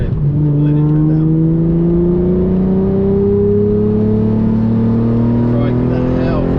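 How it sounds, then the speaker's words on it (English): Ferrari 430 Scuderia engine revving out under smooth throttle on the road, a loud sustained rising whine climbing steadily in pitch, close and unbroken from start to finish. "Let it rev. Let it rev out."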